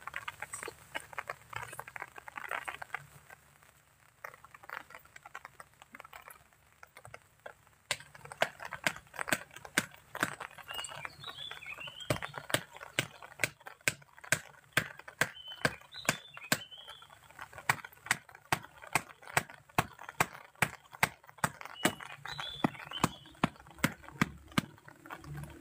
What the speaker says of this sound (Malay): Hujan dah ada